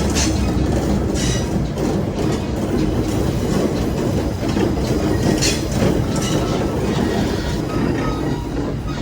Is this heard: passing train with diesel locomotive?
yes